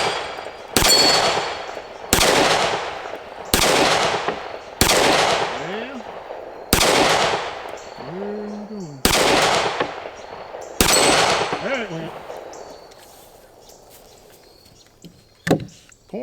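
Sig P365 pistol with a Wilson Combat grip module firing at an outdoor range: seven sharp, evenly spaced shots about one and a half seconds apart, each ringing out briefly, followed by quieter handling sounds.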